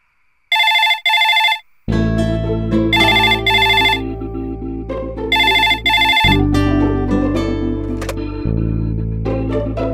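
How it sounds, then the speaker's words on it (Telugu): A phone ringtone for an incoming call: two bursts of bright electronic ringing tones, then music and ringing continue loud and steady through the rest. "నీకు ఫోన్ వచ్చింది."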